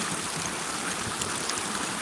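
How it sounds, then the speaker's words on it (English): Water running steadily off to one side outdoors, a broad, even rushing wash like a small stream or trickle, continuous and fairly faint with no voices. "We got water running to the right."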